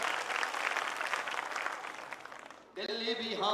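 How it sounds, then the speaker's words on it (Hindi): Crowd applause at a live Hindi kavi sammelan during a Ganesh Mahotsav celebration, loud dense clapping for about three seconds that cuts off abruptly as a voice resumes speaking. "एक बार दोनों हाथ हवा में उठाकर जोरदार तालियां बजा के।"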